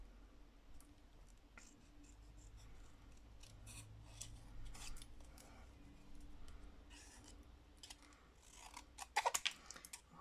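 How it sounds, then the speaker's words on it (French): Scissors cut card into an egg shape in a run of quiet, close snips and crisp paper rustles that turn into a quick burst of louder cuts near the end. "Voilà, on découpe en forme d'œuf."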